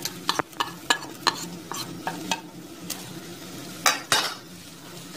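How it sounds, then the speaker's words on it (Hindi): A spoon knocks and scrapes repeatedly against a metal pot as spices fry for aloo matar pulao, sharp clinks every fraction of a second over a low steady sizzle, close and fairly quiet. "हम इसमें बाकी के मसाले डालेंगे।"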